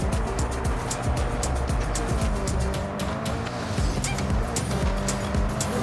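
A Bugatti drifts through a corner in Forza Horizon 5, engine revving hard with repeated tire squeals and skidding bursts, loud and close throughout.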